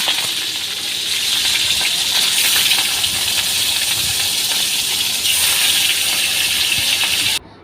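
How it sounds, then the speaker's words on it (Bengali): Pieces of rohu fish, coated in garlic paste, sizzling in well-heated oil on a stove: a loud, steady frying hiss runs unbroken for several seconds, then cuts off abruptly near the end. "এখন চুলায় তেলটা ভালো মতো গরম করে এখন এক মাছগুলো ছেড়ে দিচ্ছে"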